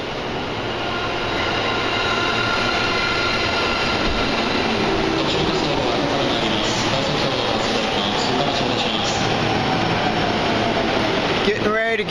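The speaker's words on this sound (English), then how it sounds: "So here comes the train, the Tozai-sen." A Tokyo Metro Tozai line train pulling into a station in Tokyo, a loud, sustained rolling rumble of carriages with wheel noise building and a brief squeal of brakes near the end.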